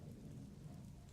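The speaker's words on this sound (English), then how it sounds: "The sound of Blight's lightning attack rips through the rainy bog, striking the monster dead on" Lightning attack in a rainy bog in the Voice of Cards video game: a deep thunderous rumble over steady pouring rain, continuous and dense, with no voices.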